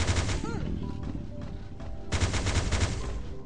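A slow-firing weapon in a video game sounds off in bursts of sharp gunfire, with one cluster near the start and another after a pause, mixed with game effects and a voice speaking.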